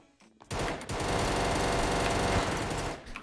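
A rapid-fire gun, the Trev gun, blasts steadily in a chaotic minigame shooter. The fire stays loud and unbroken for nearly three seconds, then cuts off.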